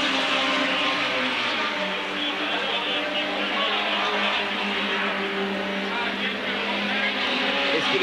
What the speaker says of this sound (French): Jean-Pierre Beltoise vient de passer en tête, devant Jean-Pierre Malcher